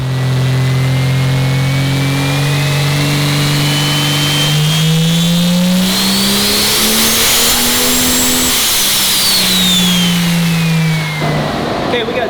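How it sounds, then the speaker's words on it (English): A truck engine on a dyno revs hard and steadily, pitch climbing and falling as it runs under load, loud and close with a whining high tone above the roar. "we got Ziegler's truck on the dyno"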